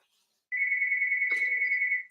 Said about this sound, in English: Why does the phone always ring?